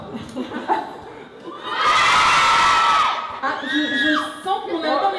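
An audience of children screams in a loud, sustained burst of shrieks and cheers lasting over a second, between stretches of someone talking and scattered chatter.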